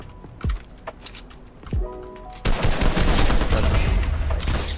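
Shotgun blasts in Fortnite: two sharp isolated shots a second or so apart, then a dense, loud barrage of rapid gunfire and explosions filling the second half.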